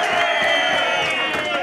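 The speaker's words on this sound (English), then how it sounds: "And the crowd getting right behind Greg now" A crowd at a professional 8-ball pool money match between Greg Batten and Paul Riley cheers and shouts in a sustained, dense roar, with voices whooping close and loud throughout.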